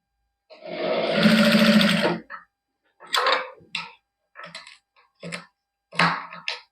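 A sewing machine stitches zari lace onto a dress neckline, one long steady whirring run followed by several short bursts of stitching separated by quiet pauses, close and clear.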